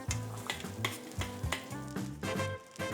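Finely diced red onion sizzles and fries in warm olive oil in a restaurant kitchen pan, a steady crackling hiss with periodic stirring scrapes, close and moderately loud throughout.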